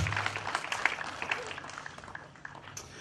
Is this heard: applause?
yes